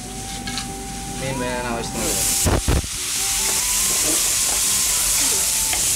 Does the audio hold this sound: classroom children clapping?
no